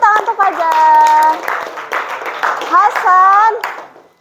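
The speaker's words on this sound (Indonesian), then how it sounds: "Beri tepuk tangan untuk Fajar." A classroom of students claps for a classmate, a burst of hand claps nearly masked by someone speaking loudly and another voice, then fading.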